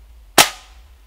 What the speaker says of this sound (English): we're going to shoot this Coca-Cola can with a BB at 10 pumps